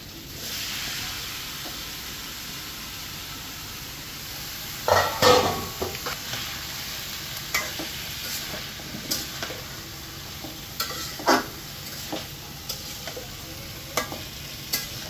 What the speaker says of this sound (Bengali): তেলটা একটু গরম হলে তো এগুলো দিয়ে একটু কষাই নেবো